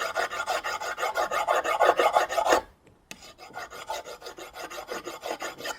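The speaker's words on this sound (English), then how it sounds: "I'll flatten that off with the file on the back, keeping it flat to the actual bit." A diamond file rasps across the back of a drill bit in quick, rhythmic strokes, close and clear, with a brief pause partway through before the filing resumes.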